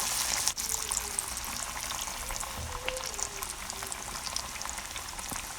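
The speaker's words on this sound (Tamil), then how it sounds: "இப்போ நம்ம அந்த வடையை போட்டு நம்ம ஃப்ரை பண்ணி எடுத்துடலாம்." Raw banana vada batter frying in hot oil, a steady close crackling sizzle that holds even throughout, with no talking.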